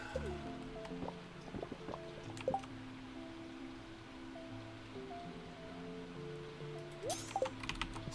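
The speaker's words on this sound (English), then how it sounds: "It's raining." Rain mixed with snow in the Stardew Valley farming game: soft dripping and pattering runs under gentle, sustained game music, with a few sharper taps.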